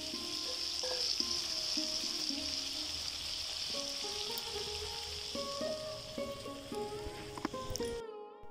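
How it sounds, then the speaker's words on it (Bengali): Bombay duck fish fries in an oil-filled pan, a steady close sizzle and crackle running throughout with faint clinks and tones in the background, no voices. "লাস্টে লোটে মাছটা রান্না হচ্ছে"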